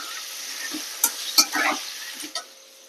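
Potatoes with a spoonful of salt sizzle and fry in a pan while being stirred, a steady crackle broken by a few sharp scraping strokes, close and fairly loud with no voices.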